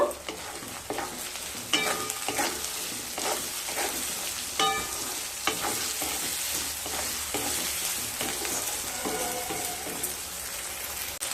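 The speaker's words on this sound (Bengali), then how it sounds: "দিয়ে গাজর আর আলুকে খুব ভালোভাবে ভেজে নেব" Carrots and potatoes frying in a pan, sizzling steadily throughout with repeated stirring scrapes and clinks, close and fairly loud, with no talking.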